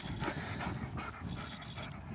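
A dog panting after fetching, quick rhythmic breathy pants at close range, fairly quiet with no talking.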